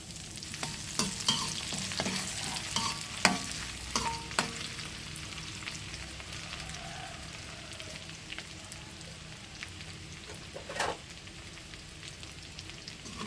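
Garlic sizzles softly in a hot pan for a Thai long-bean salad topping, with a steady low crackle broken by scattered scraping and clicking as it is stirred. No one speaks.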